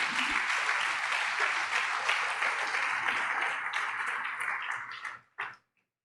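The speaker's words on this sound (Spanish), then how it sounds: "Dele palmas al Señor" A church congregation claps in praise during a Spanish-language sermon, steady applause for about five seconds that cuts off abruptly, followed by a brief burst and then silence.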